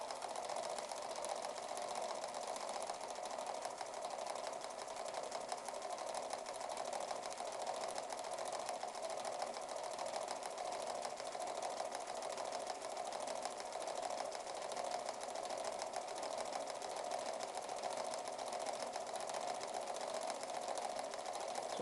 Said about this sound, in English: So I had to put quite a lot of clearance or backlash in the gears so they didn't bind, which has made it a little bit noisy.